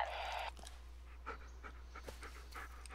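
A dog pants in the Blair Witch video game, quick, soft breathy puffs repeating close by over a low steady hum, with no talking.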